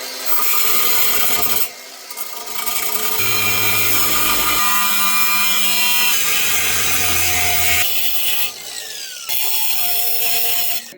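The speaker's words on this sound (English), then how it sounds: "we're gonna cut these strips down the side so we can fit this boy in here." Saw cutting strips down the side of a metal bar for a homemade ice fishing spud, loud steady rasping strokes continuing for several seconds with brief pauses.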